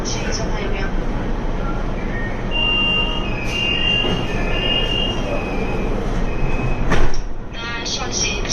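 A driverless metro train in China runs with a loud, steady rumble and whine from inside a carriage, with high wheel squeals, a sharp clatter near the end, and voices faintly under the noise.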